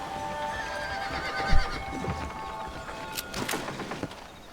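A horse's whinny in the video game Red Dead Redemption sounds amid ambient background noise, followed by a few hoof clops and sharp bursts, moderately close.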